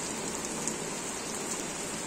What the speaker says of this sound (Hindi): बारिश देखिए, बहुत तेजी से बारिश हो रही है